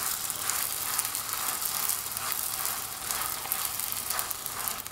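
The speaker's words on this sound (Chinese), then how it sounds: "油热以后放入饼皮，转动一下锅壁，让饼受热均匀" Homemade flatbread fries in hot oil in a pan, giving an even, steady sizzle that stays bright and continuous throughout with no talking.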